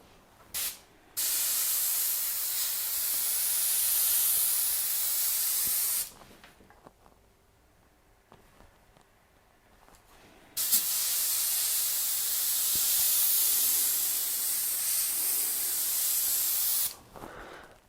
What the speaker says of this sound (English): So you're also able to spray small lines as a beginner if you have no experience with these spray guns